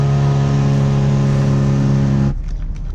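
Two-stroke boat motor running loud and steady at close range with a strong buzzing drone, then it cuts off abruptly near the end.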